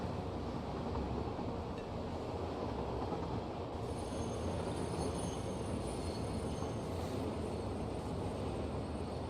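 A train rolls along rails with steady, loud wheel rumble and clatter throughout, with high metallic wheel squeal rising partway through.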